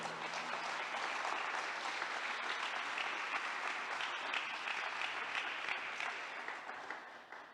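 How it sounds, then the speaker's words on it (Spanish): A church congregation applauds in a sustained wash of clapping, steady and fairly distant, tapering off in the last moment. "Dale un aplauso a Él entonces"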